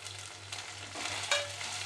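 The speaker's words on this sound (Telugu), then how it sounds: "అల్లం వెల్లుల్లి పేస్ట్ పచ్చివాసన పోయే వరకు ఫ్రై చేసుకుందాం" Ginger garlic paste frying in a pan for a village-style gongura curry, a soft continuous sizzle with a low hum underneath and one brief brighter scrape, no talking.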